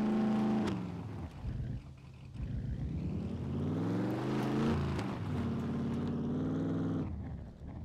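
A car engine in the survival game SCUM whines and hums as the vehicle drives and reverses, its tone rising and falling with shifting revs, moderately loud and steady with no talking over it.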